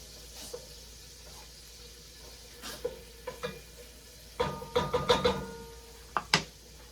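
Ingredients are stirred in a cooking pan over a soft sizzle, with a series of close scraping and clanking strokes that cluster in a rapid run before a few final knocks.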